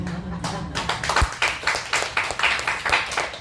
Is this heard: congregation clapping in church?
yes